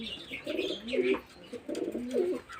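Pigeons coo in two soft, throaty rolling phrases, close by, with a faint hiss of background noise.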